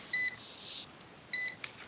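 Two short electronic beeps from a multimeter set to volts, about a second apart, each with a brief hiss, faint and close with no voices.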